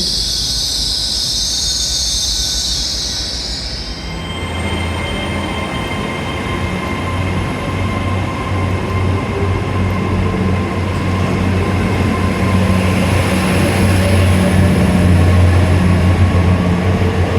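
Train running through Newton Abbot station, a steady, loud rolling rumble with squealing wheels and a sustained high whine, building slightly toward the end with no talk.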